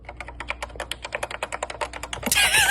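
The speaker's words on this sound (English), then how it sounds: "Let's be quiet for a minute so we can hear the typing." Rapid keystrokes on a computer keyboard clatter steadily at close range, an irregular run of sharp clicks with no talking, ending in a brief burst of louder broadband noise.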